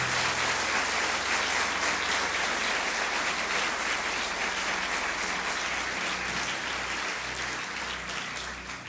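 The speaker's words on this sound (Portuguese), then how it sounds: "Eu quero que você dê um forte aplauso ao Senhor Jesus pela sua palavra." Sustained applause from a church congregation after a sermon's call to praise Jesus, a dense, steady wash of many hands clapping that stays loud throughout and tapers slightly at the end, with a low hum underneath and no talking.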